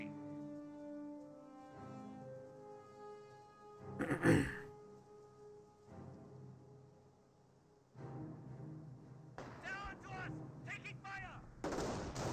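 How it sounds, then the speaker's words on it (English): A sniper rifle shot in the World War II strategy game Company of Heroes cracks out loud and sharp amid ongoing battle noise, followed by further gunfire bursts. "Sniper does get a shot there."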